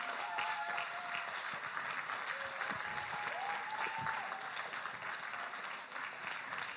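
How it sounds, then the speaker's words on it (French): A church audience applauds with sustained, dense clapping from many hands throughout, holding fairly even and fading only slightly toward the end. "applaudissez-le."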